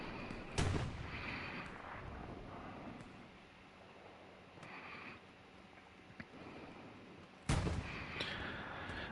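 Artillery fire in the World War II shooter Hell Let Loose: two sharp, heavy booms several seconds apart over a steady windy background rumble, with fainter distant thuds between them.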